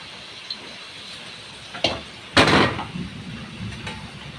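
Raw chicken pieces tipped into a hot pan of softened onions, giving a sudden loud hiss and sizzle after a short clatter, then a steady quieter frying sizzle.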